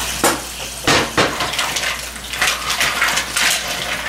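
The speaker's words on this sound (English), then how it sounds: "So we're going to rinse them really well. Got them in a colander here" Mussels are rinsed in a colander under running water, a steady close splash and hiss broken by a few sharp clatters of shells knocking against the metal.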